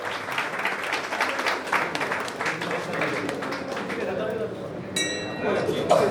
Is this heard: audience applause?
yes